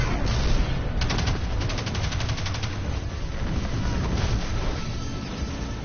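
Dense gunfire fills a video game battle, with rapid repeated shots clattering almost without pause over a loud, rumbling background and a few louder bursts standing out.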